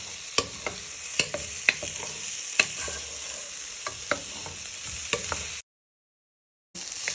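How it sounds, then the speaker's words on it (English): Onions and garlic with raw chorizo sizzle steadily in a pan, broken by sharp spatula clicks and stirring scrapes, close and continuous before a sudden brief silence. "So you just want to fry this for a few minutes so the flavour can come out into them onions and garlic"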